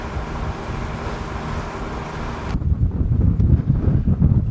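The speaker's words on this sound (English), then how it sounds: "Pretty windy in the anchorage" Strong wind in a boat anchorage in La Paz, Mexico buffets the microphone with a loud, constant roar that grows rougher and gustier partway through.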